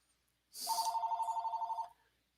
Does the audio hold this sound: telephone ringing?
yes